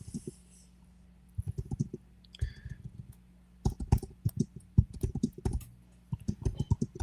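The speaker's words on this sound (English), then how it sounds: "You're typing in the chat." Fingers type on a computer keyboard during an online chat, quick clustered clicks in bursts with short pauses, close and moderately loud, no talk.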